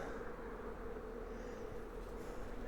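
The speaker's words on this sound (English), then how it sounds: "I've confused the bees a little bit, and they're starting to collect on the neighbouring box" Honey bees buzzing steadily around beehive boxes during honey super removal, a faint continuous drone without speech.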